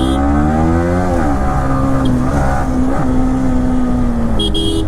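A Kawasaki Z900 motorcycle accelerates hard through traffic at night. The engine note is loud and close, climbing and shifting in pitch through the gears, with a brief sharper tone near the end.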